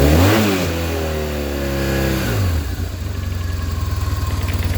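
A 1997 BMW R1100RT boxer-twin motorcycle engine is revved hard, climbing and falling in pitch, then drops into a loud, steady pulsing idle close by, with no voices.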